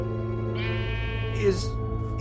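A sheep bleats once in the Minecraft Story Mode video game, a brief wavering cry rising over a steady game music and ambience bed.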